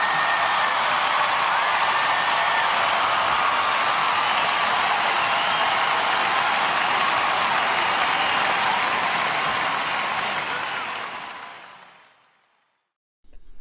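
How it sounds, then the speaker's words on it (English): Loud, sustained applause with cheering from a large crowd giving a standing ovation at a memorial for Michael Jackson, holding steady for about ten seconds before fading out. "Al Sharpton received a standing ovation with cheers"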